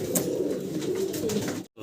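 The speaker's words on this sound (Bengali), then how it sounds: "দেখেন চমৎকার এক জোড়া কিং কবুতর দেখাচ্ছি" A pair of blue barless king pigeons coo nearby in a soft, steady, low rolling murmur that stops abruptly just before the end.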